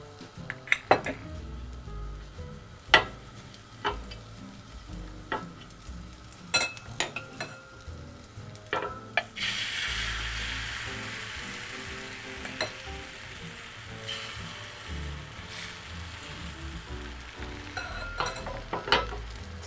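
Thin layer of egg sizzling in an oiled tamagoyaki pan, a steady close frying hiss that grows louder midway, with scattered clinks and scrapes of utensils against the pan and no talk.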